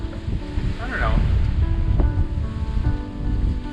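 Ocean waves and a long, widely spaced swell at sea, heard from aboard the sailboat SV Silent Running, make a steady loud wash and rumble, with wind buffeting the microphone throughout.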